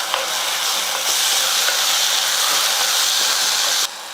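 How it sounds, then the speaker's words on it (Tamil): Onions and tomatoes sautéing in a pan for manathakkali kuzhambu, a steady, loud broadband sizzle and hiss with faint stirring scrapes, ending in a sudden drop in level. "இப்போ வெங்காயம் வந்து நல்லா வதங்கணும்"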